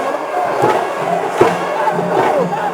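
Football fans in a stadium roar and cheer after a Thiruvananthapuram Kombans FC win in the Kerala Super League, a dense, continuous crowd din with a brief thump near the middle.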